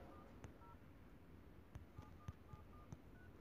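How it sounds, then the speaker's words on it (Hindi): Keypad tones from dialing a phone number, a handful of short beeps at uneven spacing, faint and alone over light background hiss. "यहाँ से मैं एक नंबर डायल कर लेता हूं।"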